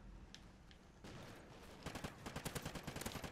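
Gunfire in Call of Duty: Ghosts, a sparse single shot or two followed by a rapid, rhythmic burst of automatic fire, loud and close over dense game background noise with no talking.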